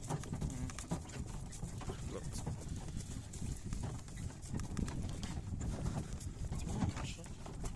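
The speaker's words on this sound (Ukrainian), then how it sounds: "Треба запрягти коні кататися." Harnessed pair of horses clip-clopping outdoors on a farm in the Ternopil region, a steady patter of hoof steps under continuous low rumble and background noise, with voices nearby.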